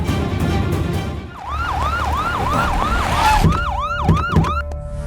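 An ambulance siren in a Bhojpuri film wails in repeated rising and falling sweeps, loud and close, starting after a brief stretch of background noise and continuing to the end.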